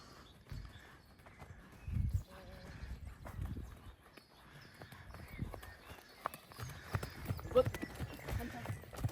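A show horse canters in an arena, muffled rhythmic hoofbeats thudding on soft footing at a moderate distance, with faint voices now and then.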